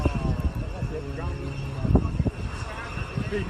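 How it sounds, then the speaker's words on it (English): An airplane takes off in strong winds, its engine roar steady beneath gusty wind buffeting, with a voice talking over it. "This plane was trying to take off in strong winds when it suddenly went off the runway."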